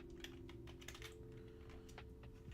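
Keys clatter on a computer keyboard in a quiet studio, a brisk, uneven run of soft clicks that stays close and faint over a low steady hum.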